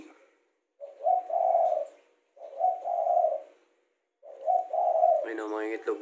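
Spotted doves cooing close by in an aviary, three separate soft rolling coo phrases with short pauses between them, the last one overlapped by a brief burst of higher chatter.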